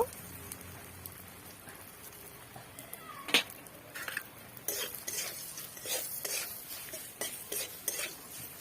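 A spoon scrapes and stirs flattened rice (poha) with turmeric and salt in a pan, quiet at first and then a run of soft, irregular scratches and light metallic clinks up close.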